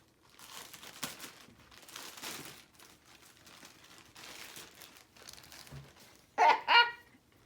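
A bag pulled from its packaging during a home unboxing, giving soft intermittent crinkling and rustling of plastic, fairly faint and close, with two sharper louder crinkles near the end.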